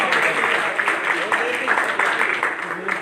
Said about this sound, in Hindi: तो तालियां मारना